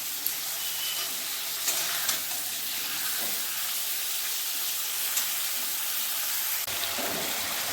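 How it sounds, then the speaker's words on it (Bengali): Fish oil fries together with potatoes in a pan for a spinach dish. A continuous hissing sizzle runs throughout, close and even, with occasional small stirring knocks and no voices. "এরপর মাছের তেলটা ভালো করে আলুর সাথে ভেজে নেব।"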